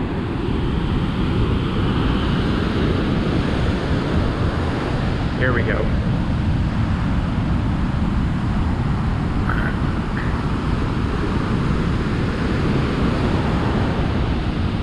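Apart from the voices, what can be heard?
big ocean waves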